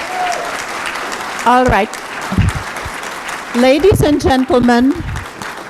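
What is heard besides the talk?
audience applause at mayoral debate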